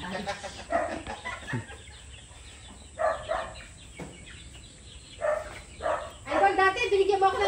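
Chickens cluck in bursts on a rural farm, mixed with people talking nearby and what may be a dog barking in the background.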